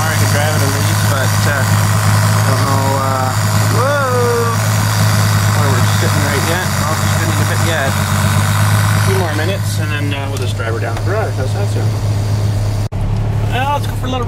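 An engine, apparently on a machine working a 36 inch bucket, idles steadily with a low, even hum throughout, while people talk over it.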